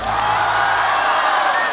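A theatre audience cheers and applauds after a stage comedy sketch performance, a loud, dense crowd roar with clapping that holds steady through the short stretch.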